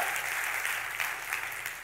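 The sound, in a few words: church congregation applauding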